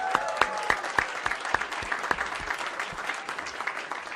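Scattered hand claps ring out in a public hearing room, sharp individual slaps at an uneven pace over a low crowd murmur, fairly quiet and distant.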